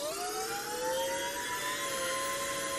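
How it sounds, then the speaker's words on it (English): Simulated electric motors of an F-35B model in the RealFlight simulator whine steadily as they spin up, the pitch climbing slightly in a continuous, fairly loud tone. "we'll hear the motors spin up in RealFlight"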